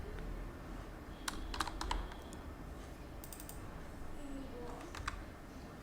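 Typing on a computer keyboard while entering code, a quiet run of quick key clicks and taps with a few brief clusters, set against faint background hiss.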